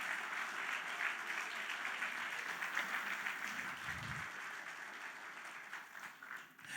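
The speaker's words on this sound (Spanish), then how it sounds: "Denle un fuerte aplauso al Señor por eso, hermanos amados." A church congregation applauds steadily, a dense and sustained wash of clapping from many hands that carries on evenly and slightly recedes toward the end.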